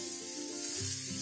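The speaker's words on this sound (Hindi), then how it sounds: "इसे हम पलट पलट के 2 से 3 मिनट तक पिट्ठी को भूनेंगे" Pakora batter sizzles in a hot pan as it is turned over, a steady close hiss running throughout with a brief scrape near the end and no voices.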